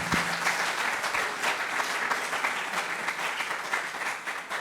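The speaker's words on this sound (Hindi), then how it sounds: "Otherwise, there would be joyful claps." An audience applauds during a church sermon, with a continuous wash of clapping at moderate level that holds steady from start to finish.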